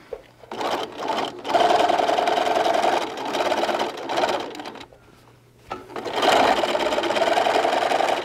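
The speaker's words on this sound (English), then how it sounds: "I'm going to just at the sewing machine stitch that closed right along that edge" A sewing machine runs in two long bursts, stitching a fabric drawstring bag closed along its edge with a short stitch length, a steady close whirring hum broken by a brief pause.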